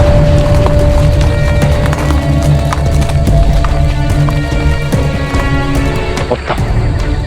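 Horses gallop in a dense, fast clatter of hooves. The loud, close clip-clop keeps up throughout, with faint sounds of people moving in the background.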